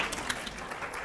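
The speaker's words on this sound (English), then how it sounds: "Sorry, you can clap, it's okay." Brief, dense burst of audience applause at a conference session on housing, a continuous wash of many hands clapping at moderate loudness.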